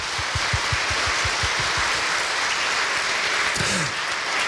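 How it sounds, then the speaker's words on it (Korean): A crowd applauds steadily, dense clapping holding at an even, fairly loud level throughout. "그동안 함께 걸어온 우리를 위해서 박수 한번 치도록 하겠습니다."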